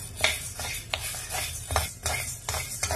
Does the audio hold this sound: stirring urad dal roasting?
yes